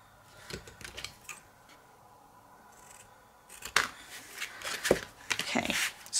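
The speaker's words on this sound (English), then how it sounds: "I'm just going to cut off some corners now before I do the next stage." Scissors snipping corners off a napkin journal tag, a cluster of crisp close cuts followed by a quiet pause and then a denser run of snips and paper rustling.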